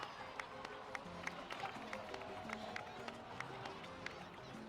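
A crowd in the video game Genshin Impact claps and cheers steadily, with sharp individual claps popping out over a murmuring background and some faint voices.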